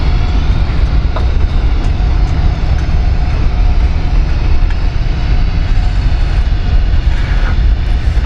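A Swiss Airbus A380 being tugged while taxiing at Zurich airport, heard as a loud, steady broadband roar of jet engines and airport noise throughout, with no voices.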